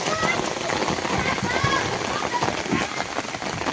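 Heavy monsoon rain pours down steadily, a dense close patter on surfaces with voices talking over it.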